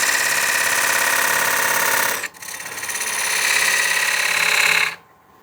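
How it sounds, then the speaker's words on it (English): A narrow parting tool cuts a groove in a wet-turned wooden bowl on a lathe, giving a loud rasping chatter with a brief pause midway before it resumes and then stops. "I'm going to grab my narrow parting tool"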